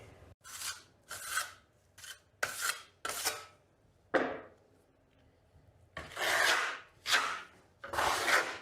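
Steel trowel spreading a generous first coat of Venetian marmorino plaster across a wall, giving repeated short scraping, rasping strokes in an uneven rhythm with brief pauses between sweeps, close and fairly clear.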